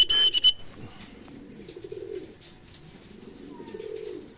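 Racing pigeons returning home to the loft in Tarlac coo in soft, rolling phrases close by, after a brief burst of sharp noise at the start, with a faint whistle in the background.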